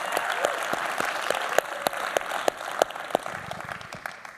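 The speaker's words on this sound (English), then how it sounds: "Can we just give one more round of applause to all of these teams?" An audience gives a round of applause at the HBS New Venture Competition finale, a steady wash of many hands clapping with a few sharper close claps, sustained throughout, fairly distant in a large room.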